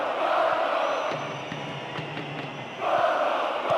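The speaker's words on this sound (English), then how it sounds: "Crowd are roaring themselves hoarse." A stadium crowd in the football video game PES 2010 roars in broad swelling waves, fading slightly in the middle before surging again, with light thuds beneath.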